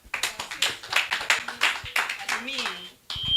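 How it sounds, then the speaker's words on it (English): A church congregation at a Sunday gospel service claps in a quick, uneven burst of hand claps, fairly close, mixed with voices and murmuring throughout. "Let's give a clap"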